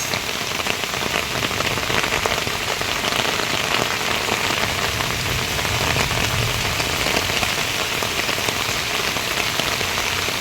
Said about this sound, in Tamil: இன்னைக்கு மழை நிற்கமா